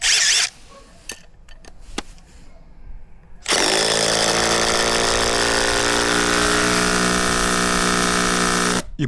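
A Makita DTD173 cordless impact driver drives a screw, giving a few faint clicks before a loud, close, sustained hammering whine that runs for about five seconds without pause, with no talking.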